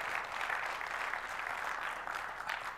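An audience at a Microsoft Build 2014 developer conference session claps in a steady, even wash of applause, moderately distant and without speech.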